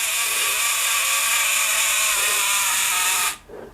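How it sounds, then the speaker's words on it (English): A Horizon Kompakt swing-lens film camera whirs steadily as its lens sweeps on a slow shutter setting, a continuous close mechanical buzz lasting over three seconds before cutting off abruptly. "you can change the shutter time here, or rather the time it takes for the lens to move around"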